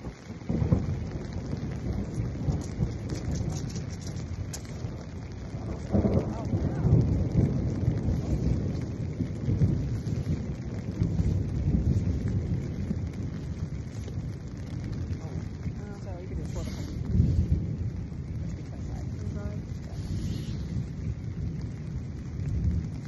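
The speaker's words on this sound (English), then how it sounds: "we're gonna try to get the lightning. The thunder on video." A thunderstorm with rain in Sequoia and Kings Canyon backcountry, heard from inside a tent: steady rain patter with low rolling thunder rumbles swelling several times, and a voice now and then.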